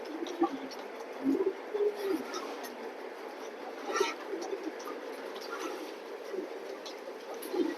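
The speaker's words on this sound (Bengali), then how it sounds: "দুইটাই খুব সুন্দর কবুতর" Pigeons coo softly and repeatedly in a loft among birds for sale, low murmuring calls at moderate distance with light rustling and a faint background hiss.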